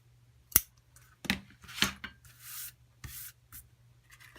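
Scissors trimming tied string on a gift crate of wood word blocks and cards: a few short, crisp snips and rubbing rustles spread over several seconds, close and quiet, with no talking.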